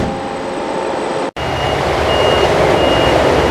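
Delivery truck arriving at a crayon factory gate, engine rumbling steadily while a reversing alarm beeps in a regular repeating pattern, with a brief cut partway through before the sound resumes.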